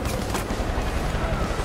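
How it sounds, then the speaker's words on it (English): Gunfire in Far Cry 5 on Xbox One X, a dense, continuous crackle of shots in a busy firefight, loud and close throughout with no clear gaps between bursts. "I'm getting shot."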